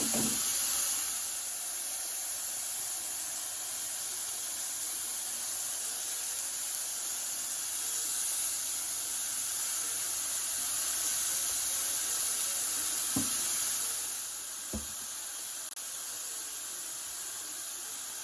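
Smashed beef burgers with onions sizzling on a Ninja Foodi XL Pro griddle, a steady close hiss that runs the whole time, with a couple of brief soft knocks near the end.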